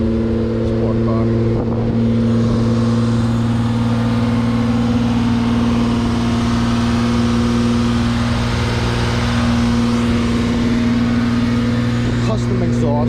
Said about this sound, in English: Oh, and there goes the idle. Let me give you guys a little rev while it's already revving.